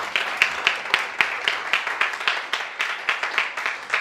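Church congregation clapping in steady rhythmic beats, a crowd keeping time together throughout at close, fairly loud level.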